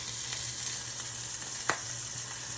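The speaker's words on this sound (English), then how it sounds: "So what I'm doing right now is I am searing my cube steaks." Cube steaks searing in a pan on a stovetop give a steady, close hiss of sizzling fat with a few faint pops and one sharper crackle, no voices.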